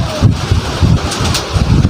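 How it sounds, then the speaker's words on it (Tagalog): Strong wind buffets the microphone in heavy low rumbling gusts, blustery and continuous, with no voices. "Grabe lakas ng hangin."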